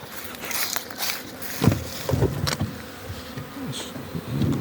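Honeybees buzz at an apiary as a beehive lid is lifted on a mild winter day, a steady hum with scattered louder bursts of wings passing close, plus light knocks and handling noises.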